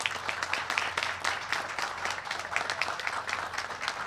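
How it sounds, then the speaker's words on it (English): Outdoor audience applause at the opening of the Sideling Hill Trailhead on the PA Turnpike, steady moderate clapping from a modest crowd holding for several seconds over a low hum. "So give a round of applause for that."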